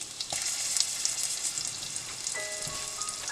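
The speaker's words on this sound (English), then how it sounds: "the oil is hot, add mustard seeds, cumin seeds, curry leaves, prepared green chili and garlic chutney" Mustard seeds, cumin seeds and curry leaves sizzle and crackle steadily in hot oil while fenugreek dumplings are prepared, a close, continuous frying hiss with scattered pops.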